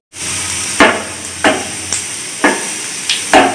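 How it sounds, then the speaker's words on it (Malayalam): Mustard seeds heated in hot oil for tempering give a steady sizzle broken by about six sharp, distinct pops and crackles at irregular intervals, close and fairly loud. "കടുക് പൊട്ടിയിട്ടുണ്ട്"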